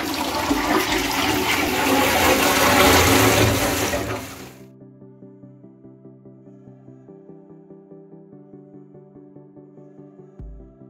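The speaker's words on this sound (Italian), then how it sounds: "verifichiamo aprendo l'acqua ed eseguendo un ciclo di scarico che non ci siano perdite d'acqua" Toilet flushing during a leak test on a newly installed toilet: a loud rushing flush for about four seconds, then the cistern refilling with a quieter steady trickle and faint clicks, close and alone.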